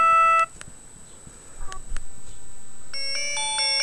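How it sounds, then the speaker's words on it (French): Short electronic ringtone melodies from a Mobiho Essentiel Le Classic Max mobile phone play one after another, bright synthetic beeping tones with brief pauses between them, with no talking. "Donc vous avez une dizaine de sonneries différentes."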